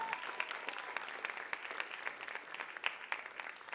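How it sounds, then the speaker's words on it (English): A crowd claps steadily throughout, a dense patter of many hands at moderate volume, heard slightly from a distance. "So please give them a big round of applause."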